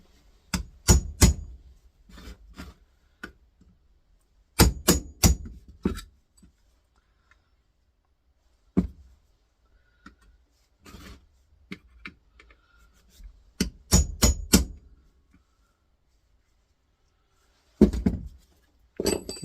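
A metal punch is struck with a hammer to drive parts out of an electric motor being scrapped, giving sharp, loud clustered blows in bursts of three or four separated by pauses, with lighter taps and shuffling between.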